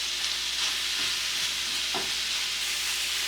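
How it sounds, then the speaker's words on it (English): Softening apples stirred around in a hot pan, a continuous bright sizzle with a few scraping strokes of the spoon. "So let's just stir this around."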